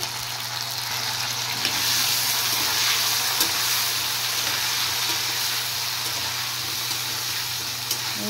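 Cut potatoes frying in a pan with salt and turmeric, in a panch phoron tempering of five whole spices: a steady, even sizzle that holds unbroken from start to finish, with no voices.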